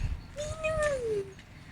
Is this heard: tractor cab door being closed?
no